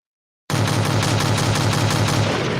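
Sustained machine gun fire bursts in after a half second of silence, a loud, rapid, continuous stream of shots with no talking.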